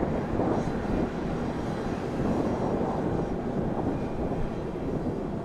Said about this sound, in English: So there's the A321